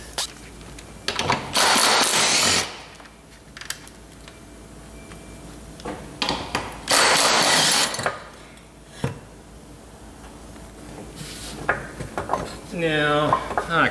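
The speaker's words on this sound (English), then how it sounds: "Undoing tail shaft bolts with the spanner sucks." Metal clanks and ratcheting scrapes from a spanner working the tail shaft bolts on a Holden HB, in several loud bursts with pauses between, close by and with no talk.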